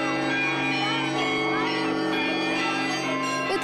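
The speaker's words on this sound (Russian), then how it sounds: "Затем прозвучал колокольный звон в исполнении учеников Центра духовного развития детей и молодежи «Образ»" Church bells rung by students of a children's spiritual development centre at a monastery in Staritsa ring continuously in a dense, overlapping peal, loud and sustained throughout with layered tones.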